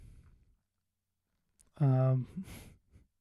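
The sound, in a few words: yawn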